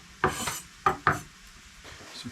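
A knife chops onions finely on a board at a camp cooking setup beside a wood stove in a tent, with three crisp, separate chops close by, then quiet.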